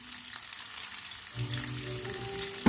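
A dish sizzling in a pan over a slightly high flame on a home stove, a steady soft frying hiss that swells halfway through with a low hum beneath, faint and continuous with no talking.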